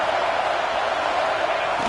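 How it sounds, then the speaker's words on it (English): A roaring football stadium crowd urging on the home defense near the goal line, a steady, loud, continuous wash of cheering with no breaks. "here comes the noise. This crowd is trying to inspire this defense to make a big red zone stop"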